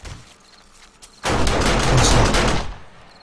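Automatic turrets in 7 Days to Die fire a sudden loud burst of rapid gunfire at an attacking spider, a dense volley lasting just over a second before tapering off.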